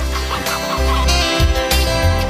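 Hens clucking close by in short repeated calls over a busy, humming background.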